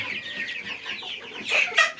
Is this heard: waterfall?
no